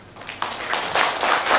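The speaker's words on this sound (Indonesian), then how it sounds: "Tepuk tangan." Audience clapping at a primary school graduation ceremony, a brief close patter of hands that builds into a denser round within about two seconds.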